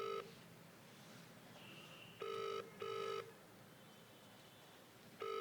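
An unanswered telephone call: a ringback tone sounds in short paired bursts with pauses between them, fairly faint over a low background hiss.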